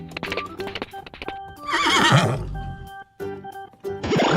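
A horse neighs and whinnies loudly amid clip-clop sounds, likely a recorded sound effect from a farm animal toy, with a rising, shaking whinny in the middle and shorter bursts around it.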